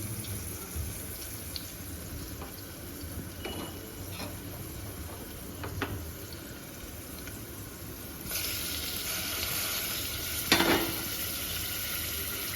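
Tomatoes tossed into a pan of frying chillies, with a continuous close sizzle that swells into a louder, brighter hiss partway through, topped by a single sharp pop near the end.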